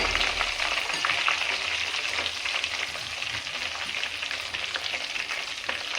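Cardamom with powdered ginger and fenugreek sizzles in hot ghee during home ghee making: a steady, dense, crackling fry that holds throughout at close range.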